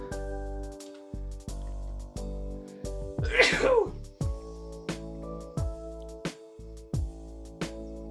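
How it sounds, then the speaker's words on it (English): A single sharp sneeze bursts out midway, set against a steady background of music with regular rhythmic beats. "Oh gosh, I gotta sneeze"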